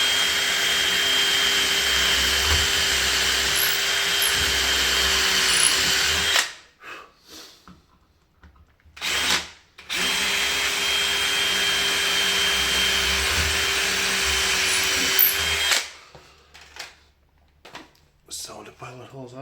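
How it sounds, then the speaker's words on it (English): A power drill whines steadily at close range for several seconds drilling guide holes in a door for a keyhole, stops, then runs again in a second long burst, with brief handling noises between. "So the keyhole will need 2 holes, so we'll put another guide hole for it."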